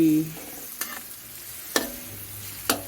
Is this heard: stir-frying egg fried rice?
yes